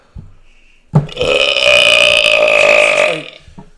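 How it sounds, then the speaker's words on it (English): A long, loud burp stretches for about two seconds after a brief faint sound, rising and holding steady before trailing off, close and alone with no talk over it. "She doesn't burp like this."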